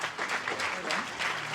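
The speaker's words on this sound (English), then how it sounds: "Can we get a big round of applause for Harry and Jacqui?" Steady applause from an audience, a dense wash of clapping that holds at an even level for the whole stretch.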